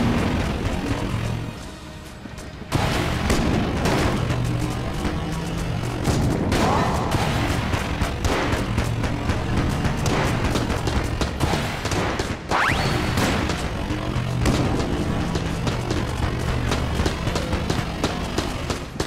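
Rapid, dense gunfire and bullet sounds from the video game Enter the Gungeon, loud and nearly continuous with bursts of blasts and booms after a brief quieter opening.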